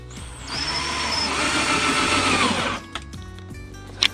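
An old power drill runs while plywood flooring goes into a VW T5 camper van conversion. Its motor whines and rattles steadily for about two seconds, then cuts off, and a few faint knocks follow.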